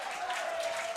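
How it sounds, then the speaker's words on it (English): English supporters cheer and applaud at an under-20 men's lacrosse championship game against Germany, a dense wash of clapping and crowd noise from a distance with a steady even level and no clear voices. "The English fans are celebrating, cheering on their under 20 team here"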